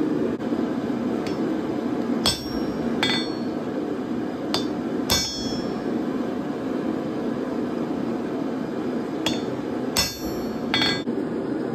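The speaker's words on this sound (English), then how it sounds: "to put these fullers in, I'm going to be using a small ball fuller" Hammer blows on a small three-quarter-inch ball fuller set into hot steel while forging a leaf hook, sharp metallic strikes in irregular clusters over a constant loud roaring forge or blower drone.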